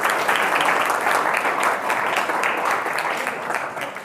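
A crowd at a Constitution Day general knowledge quiz in a government higher secondary school claps for contestants. The applause is loud and continuous, fades slightly toward the end, and faint talk comes through beneath it.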